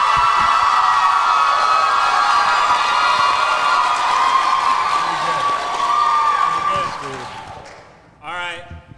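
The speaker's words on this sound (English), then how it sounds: "So just clap and scream and holler for the person that you think should take home our final prize" Dense crowd cheering, whooping and applauding at an Eras Tour pre-party in a Miami Beach hotel, loud and sustained for about eight seconds before cutting off into a brief separate burst of shouting.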